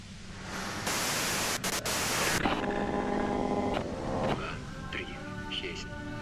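Harsh broadband white-noise static from the video game Disco Elysium fills the first few seconds, then gives way to tonal game sounds and music.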